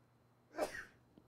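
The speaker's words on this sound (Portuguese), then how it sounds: "Deu uma espirrada aqui" A single short sneeze, fairly close and quiet, in an otherwise hushed room.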